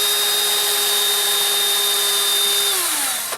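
A power drill with a small bit bores into the wooden face frame of a cabinet, a loud, steady high whine held for about three seconds before it winds down at the end.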